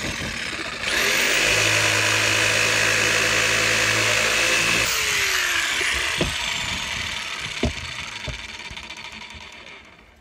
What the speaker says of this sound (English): Let's try the jigsaw.